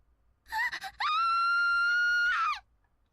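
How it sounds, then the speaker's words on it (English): A girl's high, sustained scream from the visual novel game Steins;Gate 0, preceded by a brief broken cry and then held loudly for over a second before trailing off, alone against silence. "At Mayuri's scream, she turned around just in time to see armed agents in camouflage jumping over the fence."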